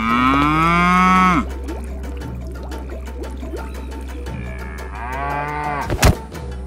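Animated cattle lowing loudly in long, drawn-out moos as giant bulls attack cows, with a splashy, pouring-water sound and a brief sharp burst near the end.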